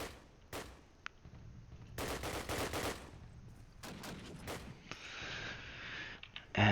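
Machine gun fire in Call of Duty 1 on the Dawnville map during a competitive match, with bursts of rapid shots, some near and sharp, some quieter, separated by short pauses.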